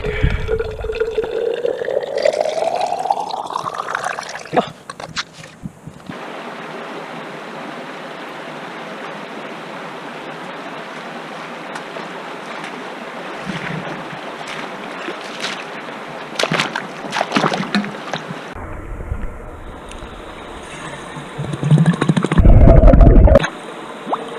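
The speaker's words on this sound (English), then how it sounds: "I'm gonna go fill this big water bottle up from the creek" A large water bottle being filled from a creek on a summer backpacking trip in Idaho, with a steady rushing gurgle of flowing water that runs continuously, joined by a few splashes and handling bumps toward the end.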